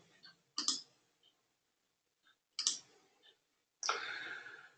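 Computer mouse clicks inserting an image into a canvas during a software demo: three short, crisp clicks spaced about two seconds apart, close and clear with no talking.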